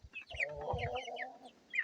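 Young chickens and adult hens cluck and chirp close by in a short burst, several birds murmuring and squawking over each other.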